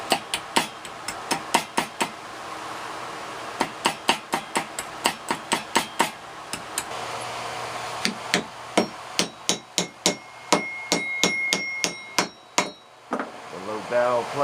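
Wood is hammered through a metal dowel plate in a woodworking shop, sharp rhythmic blows in bursts with short pauses, ringing metallic strikes growing denser toward the end.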